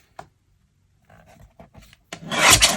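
Cardstock cut from an 8.5 by 11 sheet is trimmed to length. A faint tap and soft shuffling lead into a brief, loud, raspy slicing sweep at the end.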